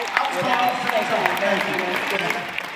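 A conference audience breaks into applause, dense steady clapping through the whole moment, with voices and cheering mixed in the crowd noise.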